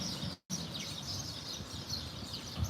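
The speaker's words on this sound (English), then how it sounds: "oh, listen to the birds" Birds chirp outdoors in a lively, continuous twittering over a low background hum, interrupted by a brief dropout early on.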